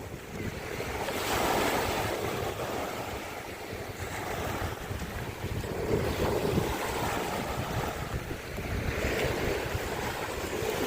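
Ocean waves wash steadily onto a beach, a continuous loud surf roar with gentle swells, and wind buffets the microphone throughout.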